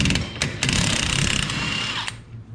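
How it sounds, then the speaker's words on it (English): A ratchet fitted with a 15mm socket works the lower shock bolt on a 2019 Polaris Ranger, giving a steady run of quick metallic clicks up close with a few louder mechanical knocks, alone without talk. "we're going to take the shock bolt out on the lower. You're going to use a 15mm wrench and a"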